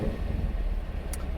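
A 2021 Chevrolet Camaro engine gives a steady, low, throaty rumble that runs unbroken and fairly close, with a bit of wind noise over it.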